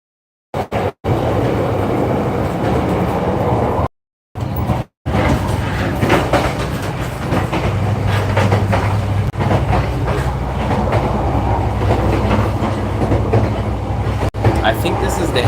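Steady low rumble inside a moving passenger train between Da Nang and Quy Nhon in Vietnam, with faint rhythmic clatter over continuous broadband noise after a few brief dropouts at the start.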